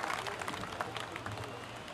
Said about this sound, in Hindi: एक बार पुनः जोरदार तालियों से आपका आभार अर्जित करें